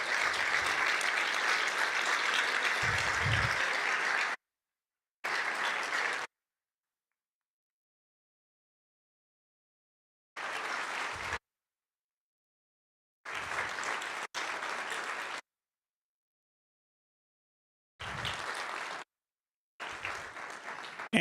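An audience at a county manager excellence awards ceremony gives a round of applause, a steady burst of group clapping at first, then broken into short separate bursts with dead silence between them.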